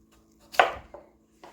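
A kitchen knife strikes a cutting board while chopping food for beef stew, one sharp chop followed by two lighter taps, close and clear against a quiet room.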